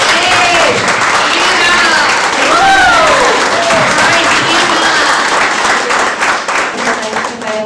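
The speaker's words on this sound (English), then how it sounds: "give her a round of applause" Loud, steady applause from a crowd, dense clapping throughout with a few voices and cheers rising over it.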